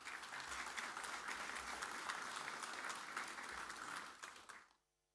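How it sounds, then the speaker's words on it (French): Applause from the audience at a general assembly of a hunters' federation in the Aisne, a dense, steady wash of many hands clapping for about four seconds before quickly dying away to silence. "Et nous ne pouvons que les applaudir."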